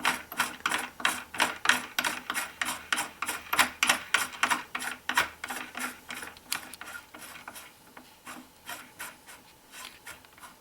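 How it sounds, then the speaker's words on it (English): A pistol die body is screwed down into a single stage reloading press, giving a steady run of crisp ratcheting clicks that slows and softens toward the end, close and alone. "I'm going to thread the die body down until it touches the case mouth"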